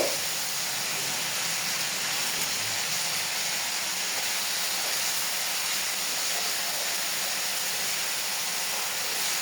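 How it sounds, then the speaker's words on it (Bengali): Mutton with salt, ginger paste and garlic paste cooks in a pan, giving a dense, steady hiss like steam or frying that holds evenly for the whole stretch without speech. "আদা বাটা রসুন বাটা লবণ দিয়ে এটাকে ভালো করে নাড়াচাড়া করে দিতে হবে"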